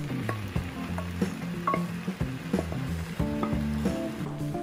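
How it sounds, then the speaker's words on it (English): Cold brown rice sautéing with kale and anchovies in a hot pan over high flame, a loud continuous sizzle broken by rhythmic scraping and clacking of a spatula stirring the rice. "And I'm sauteing the rice in order to incorporate all the kale and anchovy goodness."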